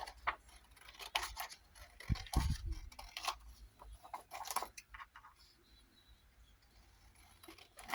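Scissors snipping out paper pieces for a junk journal corset insert, a quick run of close, crisp cuts and paper rustles with a louder handling thump partway through.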